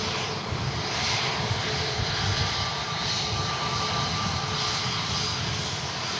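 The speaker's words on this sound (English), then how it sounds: "Aer Lingus 320 on the way out" An Aer Lingus A320 jet departing gives off a continuous, even engine roar with a faint high whine, steady and moderately distant over the full few seconds, no voices present.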